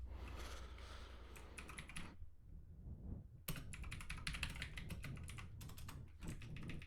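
Steady typing on a computer keyboard while coding a Python game, with close, quiet clicking keystrokes in quick bursts, a brief pause in the middle, and no voices.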